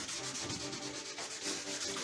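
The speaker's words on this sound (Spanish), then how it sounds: "cuando asentamos con una lija, solemos, como tiene muchos relieves," Sandpaper scrubs back and forth over a polyurethane finish on carved wood, a continuous close, loud rasping rub with quick repeated strokes and no talk.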